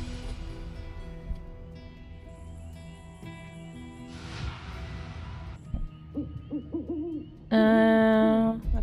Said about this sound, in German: Ah, Vogel.